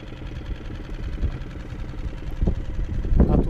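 A Storm F6 outboard boat engine runs steadily at a low, rough idle-like drone, close and moderately loud, with a few louder thumps near the end.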